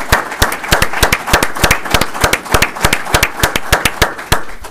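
Audience applause at a 2018 State of the City address: a steady run of sharp, distinct claps, fairly close and loud, with no talk over them.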